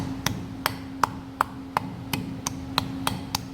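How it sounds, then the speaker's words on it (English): A soft face hammer taps a wheel dust cap onto the hub during a front brake reassembly, nine evenly spaced, crisp strikes close by with a faint hum between them. "Use a soft face hammer or something."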